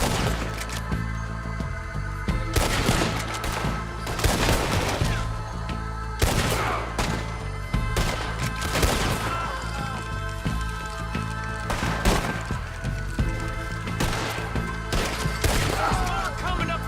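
A Red Dead Redemption 2 shootout: repeated loud gunshots fired in an irregular rhythm, each sharp crack followed by thuds and echoes over a steady game background.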